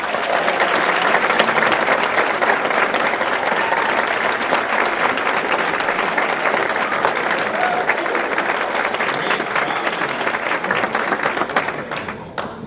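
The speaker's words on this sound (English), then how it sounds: "Please give a warm round of applause to Tom Jones and Nicole Brady." Audience applause at a show, a dense, sustained round of clapping that stays loud for most of the stretch before thinning at the end.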